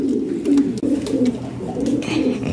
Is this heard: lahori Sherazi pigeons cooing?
yes